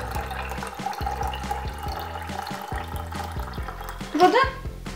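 Water pouring from a BEABA Bib'expresso 3-in-1 formula maker into a bottle, a continuous trickling flow heard close with faint background sounds and a brief louder splash near the end.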